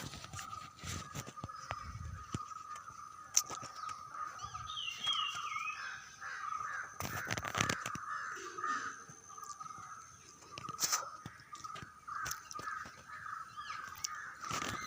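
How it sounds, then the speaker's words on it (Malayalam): Crows caw repeatedly outdoors in a large compound near a sacred grove, while one carries off a lamp wick. The harsh calls are moderately close, mixed with rustling, footsteps and faint background voices. "കാക്ക വിളക്കിൻ്റെ തിരി എടുത്തുകൊണ്ട് പോകുന്നുണ്ടേ."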